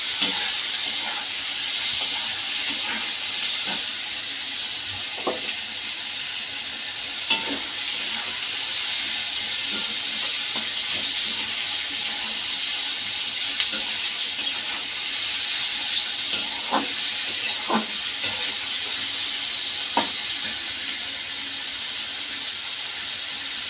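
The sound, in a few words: onions frying in a pan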